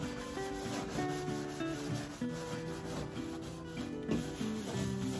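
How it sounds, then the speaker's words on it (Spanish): A sponge scrubs kitchen stove grates up close with steady, rhythmic rubbing strokes that continue for several seconds, with no speech. "ya después que la he limpiado con la esponja"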